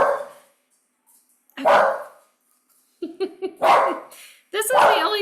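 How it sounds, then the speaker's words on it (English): Dogs bark indoors in several loud, close bursts, one sharp yip-like run among them, with pauses between the barks. "If they keep barking, I'll just go put them outside."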